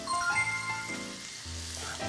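Onions and carrots stir-fry in a pan with a soft, steady sizzle, punctuated by faint scraping and clinking of a utensil against the pan.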